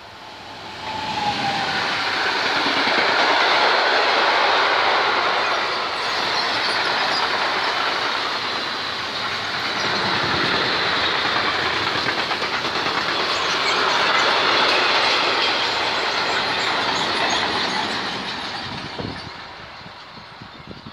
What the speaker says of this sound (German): Eine ganz neue Elektrolok davor.